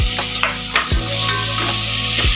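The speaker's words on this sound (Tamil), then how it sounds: "ரெண்டுத்தையும் போட்டு நல்லா வதக்கி விட்டுடுங்க" Mint and coriander leaves sautéing in a pan for vegetable biryani, with steady sizzle and a few sharp scrapes of a spoon stirring against the pan, close and clear with no talking.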